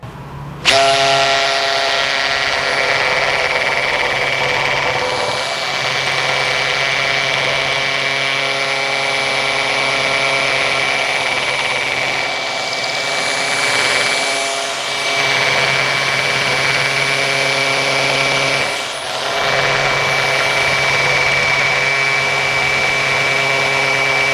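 A Makita HP002G 40Vmax XGT brushless hammer drill with a 16 mm bit bores into K300 concrete, giving a loud, steady, harmonic-rich motor whine for over twenty seconds with a few brief dips and no talk.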